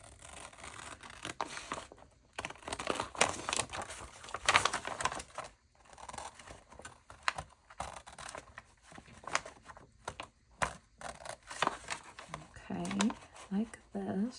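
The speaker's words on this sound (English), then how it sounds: "now I'm just going to cut this out along the edge here" Scissors snipping paper along the edge while making a Nancy Drew style journal, a run of short crisp cuts and rustles mixed with someone talking over them.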